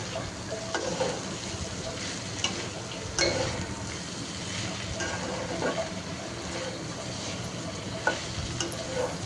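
Potato bhaji with coriander leaves fries in a pan while being stirred: a soft, steady sizzle runs throughout, broken by scattered scraping clicks of a spatula against the pan.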